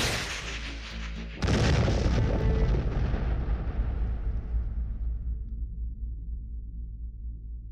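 A single sudden, powerful blast of a Kornet anti-tank missile launch that booms loudly and then rolls away into a long fading rumble, following a steady background roar.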